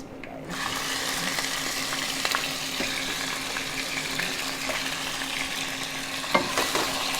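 Mutton pieces frying in hot oil for a home-style aloo mutton curry, giving a loud, dense, continuous sizzle that runs throughout, with occasional faint clinks.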